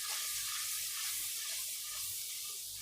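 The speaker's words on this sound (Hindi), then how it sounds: "और मसाले को भूनेंगे।" Ground coriander and red chili powder fry in a pan for aloo anday ka salan, making a steady, bright hiss and sizzle with no talk.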